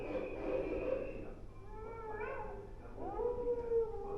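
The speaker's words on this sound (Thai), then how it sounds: "ตรงนี้ก็น่าจะเป็นพวกเสียงของพวกหมาป่านะฮะ" Recorded wolf howls play from a wildlife museum display, several long wavering howls rising and overlapping, moderately quiet and alone with no talk over them.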